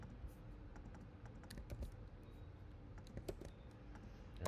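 A test card's expiry date is keyed in on a computer keyboard, with quiet, close, irregular clicks and a few firmer taps over a soft background hum and no voices.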